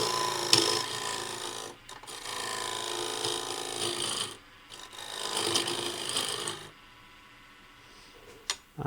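Homemade dovetail tool cutting into wood turning on a wood lathe for a gavel, giving a steady close rasping scrape in long passes with brief pauses between cuts.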